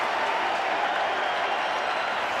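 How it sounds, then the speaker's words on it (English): A large stadium crowd at a 1988 rugby league match between the Brisbane Broncos and Manly Warringah Sea Eagles roars after a try, a steady, loud, distant wash of cheering and clapping with no break. "And the crowd celebrates."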